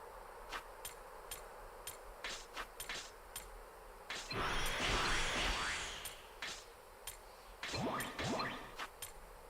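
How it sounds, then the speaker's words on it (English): Repeated high bell-like dings sound in a steady rhythm in the video game Saviors of Sapphire Wings, broken by a swelling whoosh and later sweeping tones, all faint and without speech. "Yes, we should turn on our bells."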